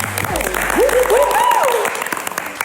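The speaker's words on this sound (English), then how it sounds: "let's give it a clap" Audience applause, a dense burst of clapping with a voice speaking over it.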